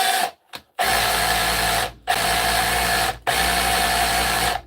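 A cordless battery drill whirs steadily in three long bursts with brief stops between them, loud and close, and no one speaks over it.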